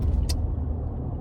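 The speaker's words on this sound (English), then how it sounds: "So I'm driving to his parents right now." A car driving on the road, heard from inside as a loud, continuous low engine and tire rumble with a brief hiss near the start.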